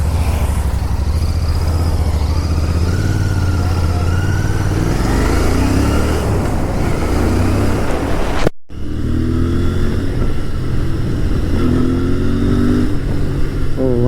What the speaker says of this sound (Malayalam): എക്സോസ്റ്റ് പിന്നെ പാരൽ ട്വിൻ ആയതുകൊണ്ട് അതിൻ്റെ ഒരു സുഖമുണ്ട്.